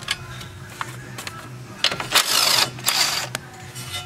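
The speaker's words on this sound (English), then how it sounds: "I use my little handheld impact gun to spin the nuts off" A small handheld impact gun spins strut nuts off a 2012 Ford Escape, giving several short bursts of whirring, rattling mechanical noise close to the microphone, with brief pauses between them.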